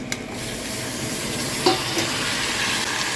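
Tomatoes dropped into a sizzling pan of a Telugu buttermilk curry, making a steady close hiss of frying, with a brief clink and stir midway.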